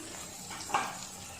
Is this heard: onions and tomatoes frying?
yes